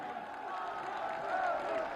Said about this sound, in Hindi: आप सब तालियों के प्रणाम उन तक पहुंचाएं और उनका अभिवादन करें।